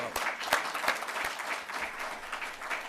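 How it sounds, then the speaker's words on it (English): Convention audience applauds in a dense, steady burst of clapping lasting a few seconds, moderately loud and without talk. "Let's give her a round of applause."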